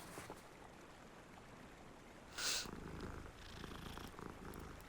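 A cat purrs in Hogwarts Legacy in a snowy outdoor area, a soft steady low rumble running under faint wind and ambient game sound, with a brief brighter chime midway.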